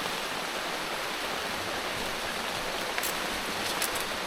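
Rain starting to fall again in a forest during the rainy season, a steady broadband hiss of moderate loudness with a few sharper drop spatters toward the end.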